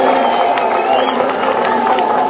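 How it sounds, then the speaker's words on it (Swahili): Outdoor political rally crowd in Magarini, Kenya, with a dense, continuous wash of clapping and cheering, loud and close, lasting the whole moment without pause. "Tuwapigie makofi hawa."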